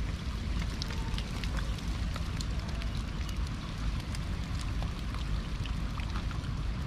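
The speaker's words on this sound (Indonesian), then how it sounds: "Oh, hujan lebat dah." Heavy tropical rain pours down without letup, a dense, steady roar of drops on surfaces that stays fairly loud and close for the whole stretch, with no voices.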